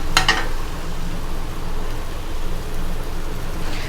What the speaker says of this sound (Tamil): இப்போ நம்ம குக் பண்ணி எடுத்து வச்சுருக்க ரைஸ் ஆட் பண்ணலாம்.